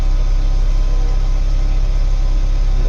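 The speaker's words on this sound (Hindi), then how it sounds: "इंजन स्टार्ट है देख सकते हो, पर गाड़ी रेस जो है नहीं ले रही है।" A Mahindra BS6 CNG pickup engine runs at a steady idle and does not rise in revs despite the throttle being pressed, giving a loud, continuous low rumble with no other sounds.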